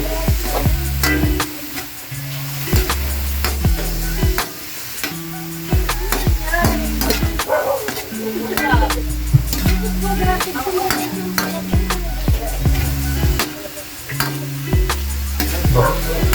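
Meat browning in a frying pan (kawali) while being stirred, loud, steady sizzling broken by repeated scraping and clattering stirs throughout.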